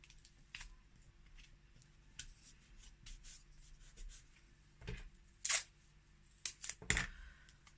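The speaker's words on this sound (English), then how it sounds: "we're just going to use some masking tape and hold it in place." Masking tape pressed and rubbed onto a paper mache sun shape: soft, faint rubbing and tapping, then a few short crackly bursts of tape near the end, with no talking.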